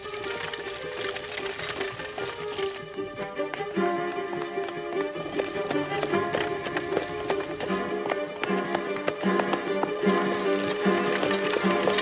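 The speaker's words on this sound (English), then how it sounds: "Stop that horse." Rapid, rhythmic hoofbeats of a galloping horse clatter beneath dramatic orchestral music, steady and fairly quiet throughout.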